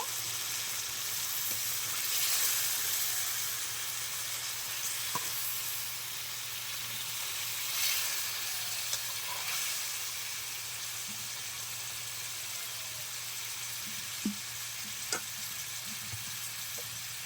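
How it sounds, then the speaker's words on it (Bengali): Pangas fish masala fries in a pan after a little water is added, giving a steady, even sizzle and hiss with a few faint pops and stirring clicks throughout. "এখন সামান্য একটু জল দিয়ে দেবো, খুবই অল্প।"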